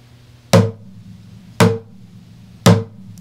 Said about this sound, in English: you hit with the thick end of the stick. This is called the bass tone.